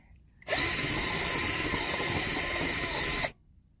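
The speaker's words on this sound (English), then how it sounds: "We'll drill it all the way through." A power drill driving a hole all the way through a truck's lift tray, a loud, steady whine that kicks in sharply, holds for about three seconds, then stops dead.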